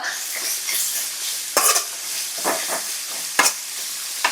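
Ginger frying in oil for street-food style poori baaji, a steady broadband sizzle with a few sharp stirring scrapes of a spoon against the pan.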